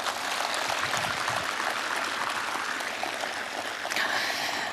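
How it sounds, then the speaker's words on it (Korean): Audience at a memorial ceremony giving a large, sustained round of applause, a dense and even wash of many hands clapping that continues steadily throughout. "큰 박수 부탁드리겠습니다"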